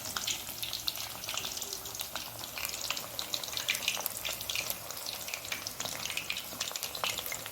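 Crispy kababs fry in cooking oil while being stirred, making a dense, close crackling sizzle that runs on without a break from start to finish.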